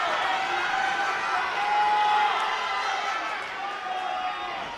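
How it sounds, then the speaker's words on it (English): A high school wrestling crowd in a gym claps and cheers in a dense, steady wash of noise during sudden-death overtime, with a faint tone running underneath. "Nice crowd reaction here as everybody's clapping for these two."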